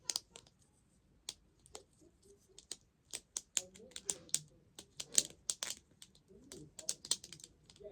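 Clicks from handheld fidget toys, sharp dry taps in irregular bursts, some close together and some spaced out, fairly quiet and close by, with faint murmuring between them.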